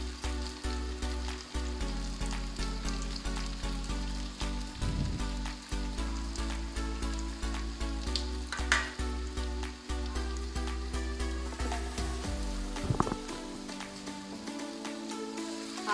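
Spices and green chillies fry in a pan for an achari taro (arvi) curry, making a close, steady sizzle and crackle with occasional stirring scrapes throughout and no talking.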